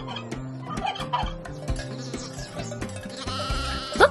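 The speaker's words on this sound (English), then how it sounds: "Over there on the hill, do you see the sheep?" Sheep bleating on a farm, several wavering, nasal bleats repeating across a few seconds, with clucking fowl nearby and a louder bleat at the end.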